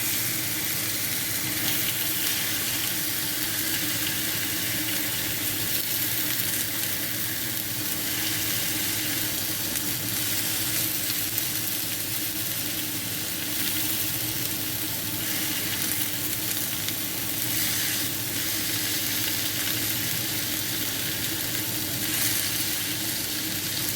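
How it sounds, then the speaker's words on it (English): Bacon sizzling steadily in a frying pan for a one-pan cooked breakfast, a continuous close crackling hiss with soft stirring and shifting noises, no talking. "Press the bacon down onto the pan."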